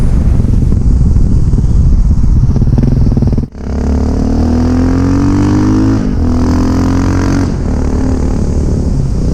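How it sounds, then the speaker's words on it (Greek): A loud 2001 Yamaha XT600E air-cooled single-cylinder motorcycle engine drones close by while riding in Athens, buried in heavy wind rumble, its pitch climbing and dropping briefly with gear changes. "η συγκεκριμένη μηχανή είναι ένα Yamaha XT600E του 2001. Μονοκύλινδρος κινητήρας, αερόψυκτος"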